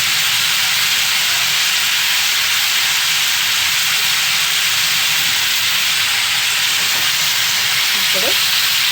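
Bitter gourd pieces with grated jaggery fry in a hot pan, producing a loud, dense, continuous sizzle and hiss that holds steady throughout, with a faint brief sound near the end.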